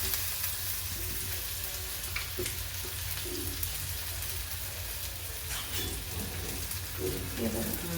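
Gobi manchurian sizzles and fries in a pan after soy sauce is poured in, a steady crackling hiss with faint scattered pops, close and continuous with no talking.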